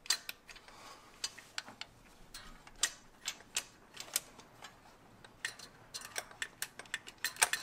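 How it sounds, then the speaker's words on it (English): The throttle linkage on a Ford F150 carburetor is worked by hand to test the accelerator pump, producing rapid, close metallic clicks and ratcheting ticks in an uneven rhythm, with no talking. "Let's see if the accelerator pump works."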